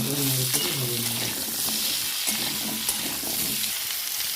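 Carrots and pumpkin for a soybean sabji frying in a pan, with a steady dense sizzle and irregular stirring scrapes, close and loud, plus a brief tonal hum early on.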